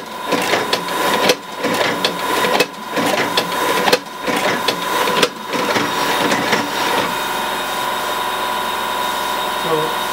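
Disc Sleever MEP120 automatic CD sleeve packaging machine runs steadily at close range, with a mechanical whir and a strong tonal hum, repeated clacking cycles in the first half, then a smoother continuous drone.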